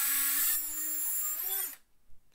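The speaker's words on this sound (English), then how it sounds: "I'm just going to drill a hole into this cap right in the very center." Power drill boring a hole into the center of a PVC cap, a close, loud high-pitched whine lasting under two seconds, dropping slightly in pitch before stopping abruptly.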